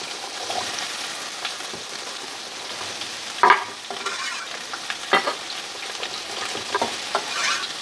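Chayote fries in reused oil in a pan with a soft, steady sizzle, punctuated by several louder stirring scrapes and clacks of a spoon against the pan.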